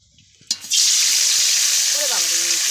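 Guttum fish hit the oil in a hot wok on a Teesta river char with a sudden splash, then settle into a loud, steady sizzle that continues close by, with a brief tonal sound near the end.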